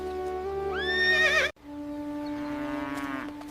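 A horse whinnies loudly and close by. One long neigh is cut off abruptly, and a second, lower whinny follows at once. No one speaks.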